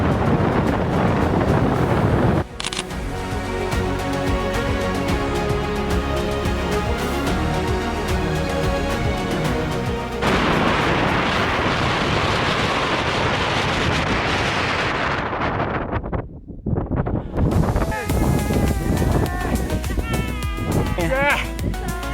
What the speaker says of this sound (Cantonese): 真係超級大風啊！